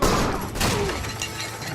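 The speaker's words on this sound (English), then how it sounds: "The nervous bartender tries to shoot Hex." Gunfire in an animated Jonah Hex short as a nervous bartender opens fire in a saloon, a dense, loud burst of shots and impacts packed into under two seconds.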